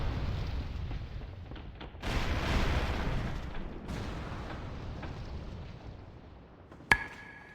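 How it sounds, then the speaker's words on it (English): Booming cannon fire rumbles through a World of Warcraft scene in Stranglethorn, a heavy low blast swelling and fading over several seconds, followed by a sharp crack and a ringing metallic tail. "I'll try to hold off the cannon fire while you're on board"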